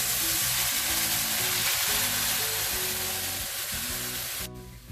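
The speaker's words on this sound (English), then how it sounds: "in the same pan we are going to fry all these marinated mushrooms" Marinated mushrooms frying with fried onions in a pan for mushroom dum biryani, making a loud, dense, continuous sizzle close by that cuts off abruptly at the end.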